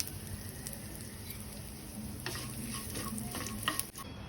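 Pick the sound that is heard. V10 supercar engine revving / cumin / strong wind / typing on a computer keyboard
cumin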